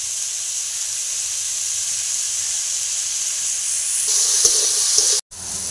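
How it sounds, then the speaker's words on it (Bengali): Figs, potatoes and chickpeas sautéing with spices in a pan give off a steady, even hiss and sizzle, with a brief pause near the end; no one speaks. "ভালো করে ডুমুর, আলু আর ছোলাটাকে কষিয়ে নেওয়ার পর"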